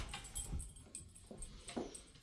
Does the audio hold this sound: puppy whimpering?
yes